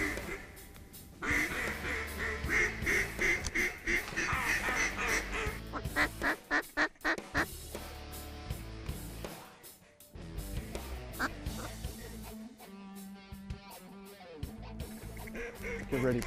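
Ducks quack in flooded green timber in Arkansas during a hunt. Dense, loud calling carries on throughout, with repeated overlapping quacks, a few short gaps, and bursts of honking nearby.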